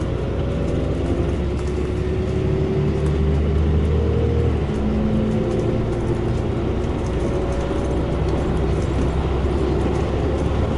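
An Evora bus on Faresaver's route 231 in Wiltshire drones steadily from inside, its engine rumble and road noise loud and continuous, with slight shifts in pitch as it pulls along and no voices over it.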